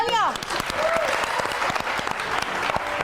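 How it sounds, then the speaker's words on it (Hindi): Studio audience applause for three guests on a Hindi variety show, steady dense clapping throughout with voices cutting in over it. "ये देखो आगे भी तीनों के लिए बहुत सारी तालियां।"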